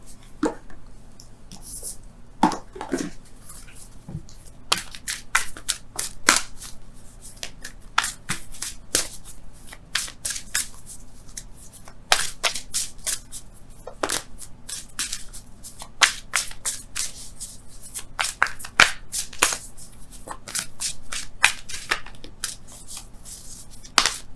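Wisdom of the Oracle cards are shuffled at close range during a tarot-style love reading. The quick riffling snaps and taps come in uneven bursts, with brief pauses between them, for over twenty seconds.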